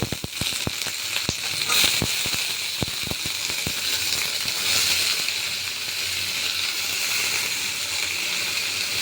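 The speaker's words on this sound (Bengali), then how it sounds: "এখন আমি দিয়ে দিচ্ছি এই তো গাজর আলু কেটে রেখেছি, এটা দিয়ে দিচ্ছি" Cut carrots and potatoes drop into hot oil already holding cumin and fried onion, setting off a loud steady sizzle with a burst of sharp crackles and pops early on, then a dense continuous frying hiss.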